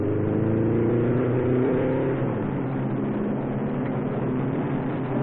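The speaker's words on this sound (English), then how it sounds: "the Novi rolls again in 43 seconds" A Novi race car at the 1957 Indianapolis 500 pulls out of the pits, its engine droning loudly and steadily with a strong harmonic whine that shifts in pitch as it accelerates away.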